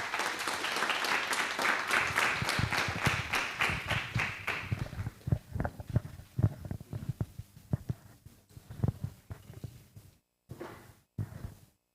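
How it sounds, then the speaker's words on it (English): A Tech Talk Joburg startup policy roadshow audience claps in a fairly rhythmic round of applause that lasts about four seconds. It then thins into scattered claps, taps and shuffling before near silence. "So round of applause to Cleola."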